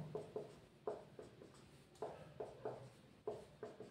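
Chalk or marker tapping and scratching on a board while a chemical formula is written, making quiet, irregular strokes a few times per second with no talking.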